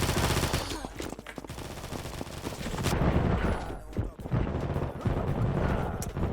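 Water gun firing in a Turkish-played action video game, a dense run of rapid shots amid loud, busy game effects and music throughout, with a voice briefly in the mix.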